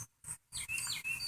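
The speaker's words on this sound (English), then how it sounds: "let's finish this video up listening to the birds" Birds chirp outdoors in quick, bright, high tweets, several short calls in a row, fairly faint and close, with no voices.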